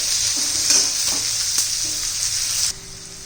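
Onion frying in a pan for amaranth greens, a bright, steady hissing sizzle with occasional stirring scrapes, close and even, dropping abruptly to a quieter simmer near the end.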